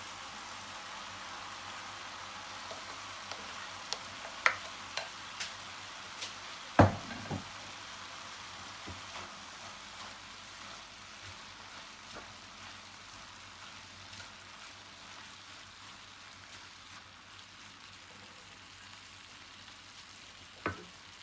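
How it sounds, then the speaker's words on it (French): Courgette and other vegetables for a potato gratin frying in a pan, a steady soft sizzle running throughout with a few small pops and clicks, quiet and continuous with no talking. "ونخليه يتقلى 10 دقائق"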